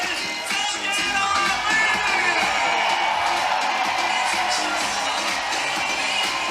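Crowd cheering and whooping at a triathlon finish line at Challenge Roth, a loud, continuous roar with yells rising above it, under commentary.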